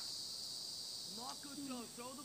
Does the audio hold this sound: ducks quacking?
no